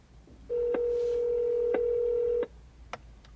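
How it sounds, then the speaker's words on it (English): A call placed through Apple CarPlay gives a steady electronic ringing tone that lasts about two seconds with faint clicks over it. A couple of brief ticks follow in an otherwise quiet interior. "Touch the contact name or number to initiate a call."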